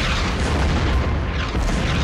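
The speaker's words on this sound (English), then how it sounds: "Non-stop shells hitting in the front, the back, to the left, to the right." Artillery shells land in a dense, continuous rumble of deep booms and blasts, with no clear gaps between impacts.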